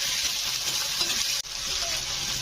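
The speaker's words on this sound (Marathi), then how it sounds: "नंतर आलं लसूण हे छानपैकी परतून घेऊया." Ginger and garlic frying in a pan for a dhaba-style egg gravy, a steady, loud sizzling hiss running throughout with one brief dip near the middle.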